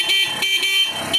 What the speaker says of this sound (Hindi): प्रॉपर हॉर्न से साउंड आ रहा है।